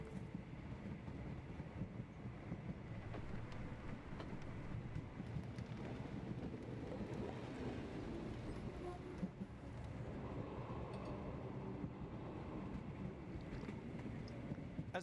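Train in the Sherlock Holmes: The Awakened video game, a continuous rumbling clatter of rolling carriages with wind-like rushing noise, steady and moderately loud over the whole stretch.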